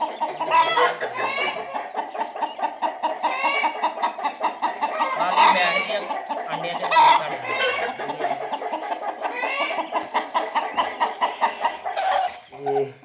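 A broody hen sits on a clutch of about nineteen eggs and clucks close by in a continuous run of short, repeated clucks, with voices talking alongside.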